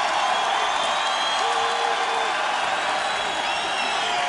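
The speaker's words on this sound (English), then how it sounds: "This crowd is on its feet." A packed arena crowd at Hard Rock Live roars steadily through a kickboxing bout, a loud and sustained wall of cheering with no single voice standing out.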